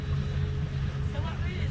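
A boat engine on a hotel boat drones steadily with a low, continuous hum and wash, loud and close, while faint voices are heard over it.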